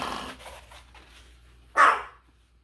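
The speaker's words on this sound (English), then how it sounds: "So if he barks during the video and I ignore him, it's not because I hate him." A dog lets out a single sharp, loud bark close by, after a couple of seconds of faint, low vocal murmurs.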